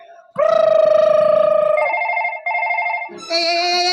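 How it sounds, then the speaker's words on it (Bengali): A telephone rings during a Bangla comedy opera stage show: a loud, sustained electronic melody of steady tones that shifts pitch in several held steps across the whole stretch, with no other sound over it. "এই ফোন এসছে, ফোন ফোন"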